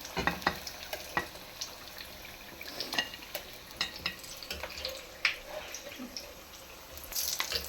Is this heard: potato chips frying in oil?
yes